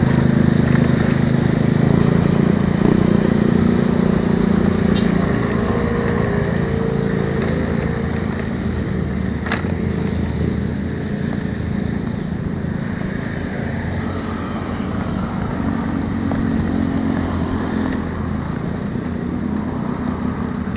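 A motorcycle engine drones steadily at close range with traffic-like rumble throughout, no clear pass-by swell, some faint clicks over the top.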